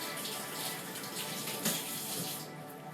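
Steady tap water pours from a faucet into a stock pot being filled for chicken stock, a continuous close splashing rush with no voices.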